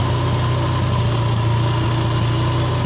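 A motorcycle engine idles steadily and loudly throughout, a constant low rumble with no change in speed, heard close and without any voices.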